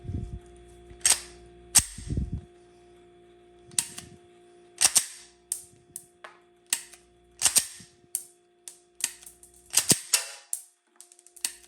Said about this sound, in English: put a barrier when you're dry firing with dummy rounds